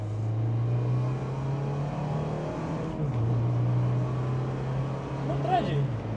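A lowered classic Japanese car's engine pulls hard under acceleration, a steady, loud, close drone that swells and dips slightly throughout, with faint background noise.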